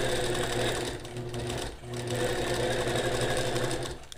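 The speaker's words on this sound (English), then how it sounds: "So this metallic thread is actually stitching quite nicely." A sewing machine stitching metallic thread while free-motion quilting a feather design, a loud continuous close mechanical whir that dips briefly in the middle before running on.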